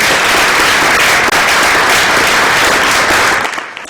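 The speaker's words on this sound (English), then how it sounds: "Let's give our vocal resonance ensemble another round of applause." Loud, dense applause from a concert audience for a vocal ensemble, sustained and close before tapering off sharply at the end.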